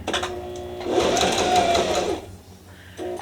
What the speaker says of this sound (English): And I'll just sew slowly across there.